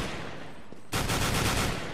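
Sudden loud automatic rifle fire breaks out in a CS:GO match after a quiet stretch, a rapid run of evenly spaced shots close by that continues to the end.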